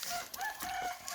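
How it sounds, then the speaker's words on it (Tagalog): A rooster crows in one drawn-out call at moderate distance on a rural farm, a clear cock-a-doodle-doo standing alone without talk. "Manok."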